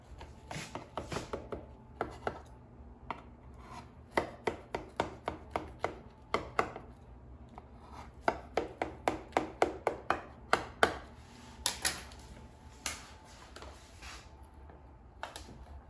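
A knife slicing through Bisquick banana bread, with a long series of sharp, close chopping and cutting strokes in uneven rhythm, some clustered quickly and others spaced apart, with no talking.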